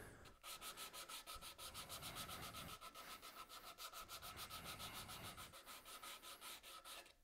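Sandpaper is held against a wooden bowl spinning on a woodturning lathe, giving a steady, rapid rhythmic rasping that pulses with each rotation, brief pauses breaking it up. The sound is close, continuous and free of speech.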